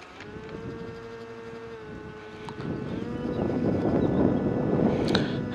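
Wind buffets the microphone of a DJI FPV drone system with low rumbling gusts that swell louder in the second half, over a faint steady engine hum.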